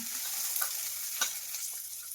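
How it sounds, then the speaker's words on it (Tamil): Dried red chillies and garlic fry in a pan over low heat, giving a soft, steady sizzle with a few light stirring scrapes and clicks, close by and without talk. "கம்மியான தீரை தான் வச்சு வணக்கணும், ஏன்னா இதெல்லாம் கருகி போயிடும்."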